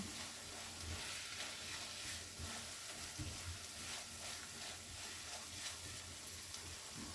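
Mushrooms frying in a pan and being stirred, with a steady, close sizzle and occasional soft scrapes and knocks of the stirring, no talking.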